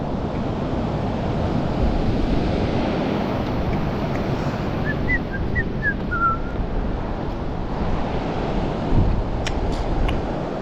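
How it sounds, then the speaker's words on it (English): Waves roll onto a rocky north-coast shore in Fuerteventura, with a steady dense wash of surf and wind noise throughout, plus a few faint bird-like whistles in the middle. "Hopefully I can get it over these rollers, but there's a bit of a wind."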